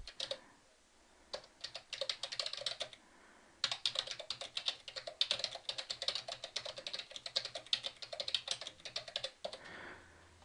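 Fast, steady typing on a computer keyboard while entering an appointment note, with dense runs of close, crisp keystrokes broken by a couple of short pauses and no talking.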